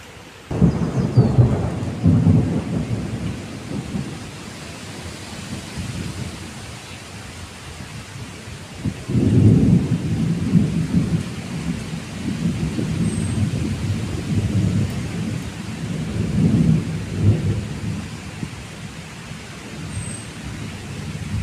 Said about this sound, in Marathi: पावसाळ्यासारखा पाऊस पडायला सुरुवात झालेली आहे